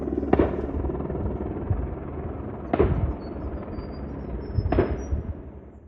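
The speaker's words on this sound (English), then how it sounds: "we could both see and hear the helicopter operating, and you can hear the gunshots" A steady helicopter rotor drone hums throughout while three sharp distant gunshots from aerial culling crack at spaced intervals.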